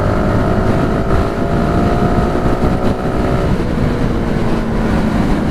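Honda Supra GTR 150 motorcycle engine running steadily with a continuous hum, mixed with wind buffeting on the microphone as if riding, no talk.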